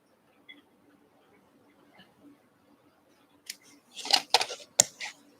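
Fabric for a small Christmas tree quilt block is cut in a few crisp, close snips bunched near the end, after a long nearly silent stretch.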